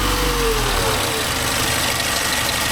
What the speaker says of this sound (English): started the engine.